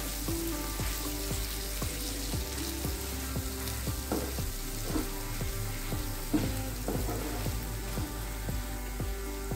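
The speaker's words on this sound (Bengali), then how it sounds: "একদম লো ফ্লেমে 4-5 মিনিট একটু কষিয়ে নিয়েছি আলুটাকে" Mashed boiled potato with salt and chopped coriander fries and is stirred in a pan over a low flame, a soft steady sizzle broken by regular spatula scrapes and taps.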